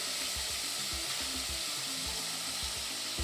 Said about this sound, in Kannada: ಎಣ್ಣೆನೆಲ್ಲ ಚೆನ್ನಾಗಿ ಫ್ರೈ ಮಾಡ್ಕೊಳ್ಳಿ.